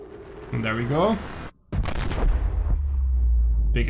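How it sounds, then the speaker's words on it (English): A big explosion during a crash landing in the video game Subnautica: a rising whine, a sudden cut, then a loud booming roar with a heavy low rumble that keeps going. "Big explosion."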